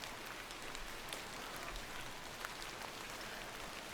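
Rain in the video game The Excavation of Hob's Barrow, a faint, steady wash of patter and hiss with no breaks, heard alone without talk.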